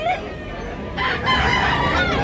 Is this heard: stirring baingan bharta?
no